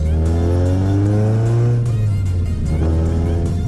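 A small four-cylinder car accelerates hard nearby, its engine note climbing steadily in pitch, dipping briefly at a gear change and then rising again, loud and close with no talking.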